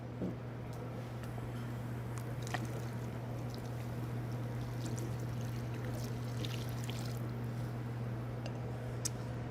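Guinness and then a little broth pour into a cooking pot, a soft steady liquid stream running under a constant low hum, with a few faint clinks.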